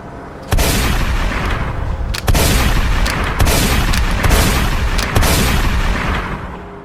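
Loud, close gunfire in a Filipino action movie, several sharp shots breaking into sustained roaring bursts that fill the scene with little pause.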